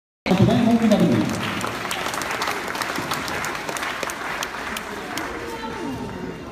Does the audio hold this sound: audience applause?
yes